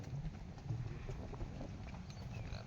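A wooden bullock cart rolling along a rural village track, the bullocks' hooves clip-clopping faintly and irregularly over a low rumble of wheels and wind.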